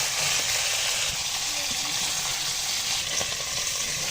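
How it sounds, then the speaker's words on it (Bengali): Meat frying with spices in a pan over a stove: a steady, close, loud sizzle with occasional stirring scrapes and no talking. "মাংসগুলো আগে একটু হালকা করে ভেজে নেব, তারপর মশলা দিয়ে কষিয়ে রান্না করব।"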